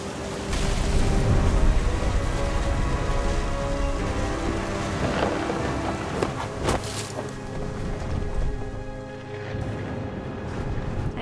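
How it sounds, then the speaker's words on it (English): Stormy game ambience from What Remains of Edith Finch: steady rain hisses throughout, with a few sharp thunder cracks and low rumbles swelling in the middle, no voices. "The thunder sounded much too close and full of angry power."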